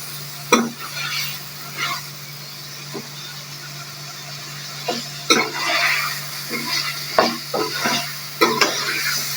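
Chopped tinda, apple gourd, gets stirred in a frying pan with tomatoes and black pepper, giving scattered scraping strokes of the spoon over a soft, steady sizzle, close up.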